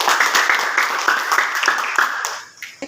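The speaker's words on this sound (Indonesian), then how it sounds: "tepuk tangan buat Niki" Short burst of clapping and applause for a student named Niki in a classroom Islamic studies lesson, steady and fairly close, fading out near the end.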